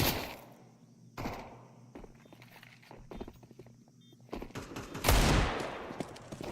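AK rifle gunfire in Counter-Strike, a few sharp bursts scattered through quieter game sounds and footsteps, with a louder blast near the end.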